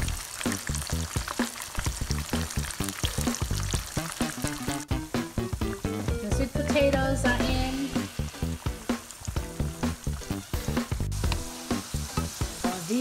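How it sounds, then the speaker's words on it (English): Oil sizzles and crackles steadily as a tilapia fillet fries in a pan, a continuous close hiss with occasional stirring clatter. "Frying the fish fillet."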